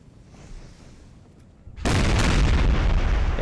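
Artillery fire in the Empire Total War video game: after a quiet stretch, a sudden loud booming volley of cannon fire erupts and keeps rumbling heavily in dense, overlapping blasts.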